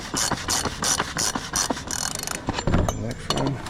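A ratchet spins off a 36mm oil filter on a DD15 diesel engine in a 2018 Freightliner Cascadia, with rapid, close clicking in quick bursts, then scraping and handling noises near the end.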